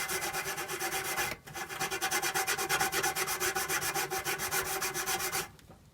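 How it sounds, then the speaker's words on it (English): A wet sponge scrubs a surface coated in Revive Power Paste with quick, even back-and-forth rubbing strokes, close and rhythmic, pausing briefly once before continuing. "A little scrub."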